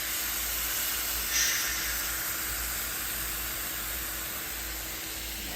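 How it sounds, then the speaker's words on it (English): Marinated steak pieces for quesadillas sizzling in a hot pan, a steady, even hiss of frying that carries on unbroken throughout, close and fairly loud, with no voices. "That meat all marinated. I'm cooking it up. Listen to that sizzle."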